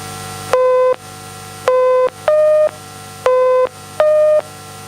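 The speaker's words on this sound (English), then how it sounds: "Count the low tones and ignore the high tones" Electronic test tones for a counting task, alternating low and high pitched beeps, five short evenly spaced tones played alone over a faint buzzing background.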